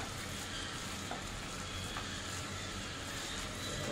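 Balls of bottle gourd kofta batter fry in hot oil with a steady, faint sizzle and crackle, heard alone and close with no talking.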